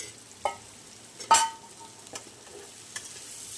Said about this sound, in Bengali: তার জন্য এখানে আলুটা ভেজে নেওয়া হচ্ছে